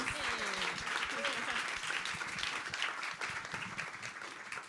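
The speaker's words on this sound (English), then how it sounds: "Round of applause." Sustained applause from a crowd fills the space, dense and steady, with faint voices mixed in underneath.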